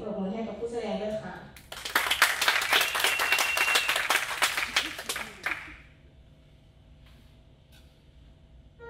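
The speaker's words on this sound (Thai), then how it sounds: "ขอเสียงปรบมือให้กับผู้แสดงด้วยค่ะ" A burst of audience applause for a junior trombone recital performer, many hands clapping for a few seconds before fading into quiet room tone; a voice speaks briefly just before.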